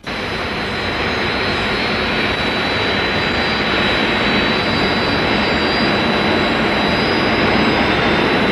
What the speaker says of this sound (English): Search aircraft launch